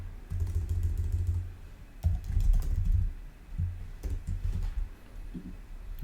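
Code being typed on a computer keyboard: clusters of quick key clicks with short pauses between bursts, close and moderately loud with no voice.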